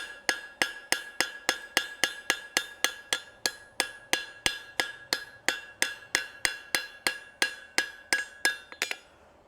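Steady rhythmic hammer blows ring out on forged metal worked over an anvil horn, about twenty sharp metallic strikes with bright ringing overtones, evenly spaced and close, ending in a quick cluster of lighter taps.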